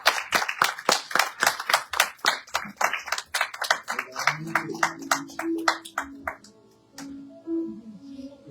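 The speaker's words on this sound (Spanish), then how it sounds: "Denle un aplauso fuerte al Señor." Congregation clapping in a church, a fast, loud run of rhythmic claps from many hands over the first six seconds, with sustained tones and voices below, then fading to a quieter tail.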